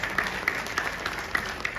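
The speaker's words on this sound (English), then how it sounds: "Give a big round of applause, guys." Light, scattered applause from a college audience at a campus event, a few distinct claps popping out over a soft, sustained patter, moderately distant.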